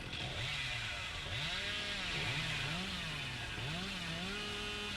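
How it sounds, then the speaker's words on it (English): A chainsaw in a video game revs and whines continuously, its engine pitch rising and falling in repeated swells, loud and close with no voices. "Vrabby just chainsawing away."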